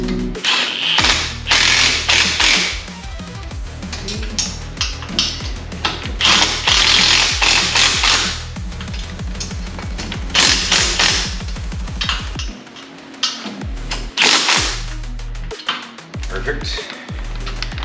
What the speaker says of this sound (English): Now we're going to tighten down our head pipes.